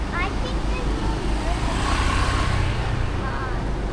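Busy street traffic in Legian, Bali, with motorbikes and cars streaming past in a steady, dense roar at close range, with faint voices in the background.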